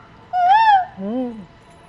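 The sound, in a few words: person imitating cuckoo call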